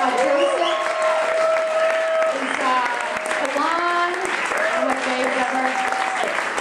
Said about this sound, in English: can I get a round of applause for everybody that you saw on stage tonight?